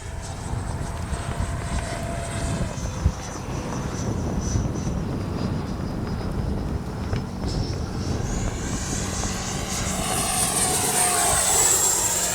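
A Freewing 80mm Avanti S V2 RC jet flies past with a steady whining electric ducted-fan roar, rising in pitch and loudness toward the end as it passes closer.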